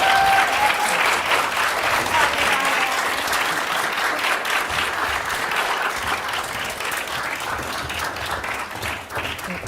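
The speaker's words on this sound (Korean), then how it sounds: "많은 박수 부탁드리겠습니다" A room full of people at a lawmaker's talk breaks into sustained, dense applause that stays loud for the whole stretch and eases slightly toward the end.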